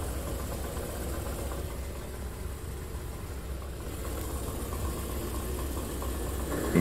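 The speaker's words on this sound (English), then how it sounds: "What could that rattling noise under my car be?" A steady low rumble of an idling car engine with a faint metallic rattle from under the car running underneath, continuous and fairly loud throughout.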